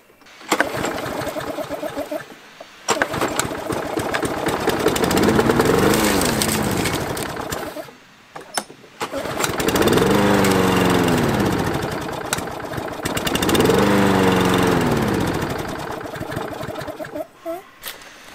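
A repaired lawn mower engine cranks up and runs loudly, surging and dropping in pitch over several cycles with short pauses between attempts, then sputters near the end. Close and steady under no talk.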